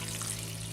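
Water poured from a container into a seed-starting tray for an aquaponics or soil garden, a steady close rushing pour with no pauses.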